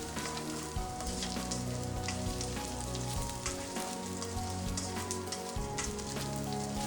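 Curry masala ingredients sautéing in a pan for a fish curry with kudampuli, a steady close crackling sizzle with scattered spatters and faint stirring, alone and without voices.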